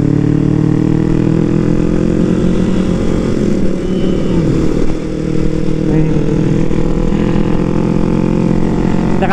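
A Yamaha WR 155 motorcycle accelerates on a winding road, its loud engine droning steadily close by under heavy wind rush, with a brief dip partway through.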